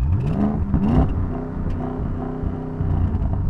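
A car engine revs in steady surges, a rough, loud drone rising in pitch at the start, with no voices.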